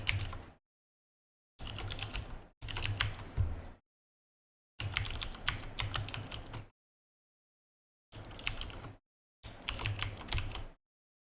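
Bursts of computer keyboard typing in several separate runs with silent gaps between, close and clear, rapid key clicks with no talking.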